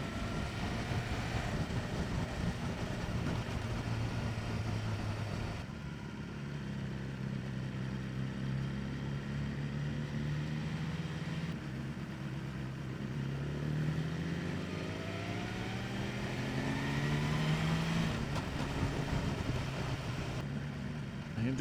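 A 2023 BMW S1000R motorcycle revving up through its range, the exhaust rising and falling in pitch as a steady engine drone with a rider talking over it.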